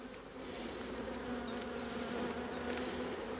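Honey bees at an open beehive frame in a spring apiary hum steadily and close, with a dense buzzing drone and a few sharp chirp-like notes, no speech.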